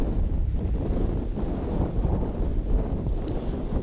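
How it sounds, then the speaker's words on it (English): Strong wind buffets the microphone on an outdoor disc golf course during a tournament round, a steady broadband roar with gusty surges throughout and no talking. "You can really hear the wind ripping."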